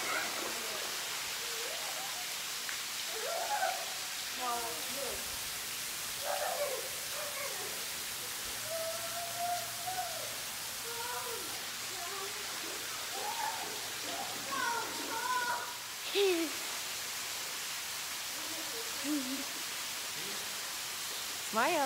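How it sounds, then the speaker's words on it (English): Waterfall at St Louis Canyon, Starved Rock, Illinois, pours in a constant hiss that runs steadily throughout at moderate level, while adults and someone talk intermittently over it. "They're standing underneath the waterfall."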